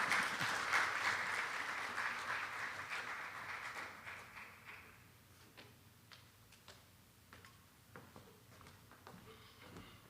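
Applause from the audience at a closing ceremony for an economics training course for journalists, greeting the economy minister; dense clapping for about five seconds, then thinning to scattered claps that fade out.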